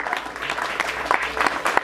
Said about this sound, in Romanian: Aplauze, să vedem dacă poate.